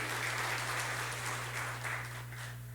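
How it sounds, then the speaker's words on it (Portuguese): A church congregation claps in a steady, continuous wash of applause for a few seconds, heard over a constant low electrical hum, slowly tapering toward the end. "Dá uma salva de palmas para Jesus"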